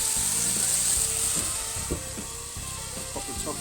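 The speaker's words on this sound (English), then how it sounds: "Now I'm going to steam this burger in Worcestershire sauce." A burger sizzles and hisses on a hot griddle as Worcestershire sauce is added around the edge for steaming, a steady crackling fry with a few brief clanks close by.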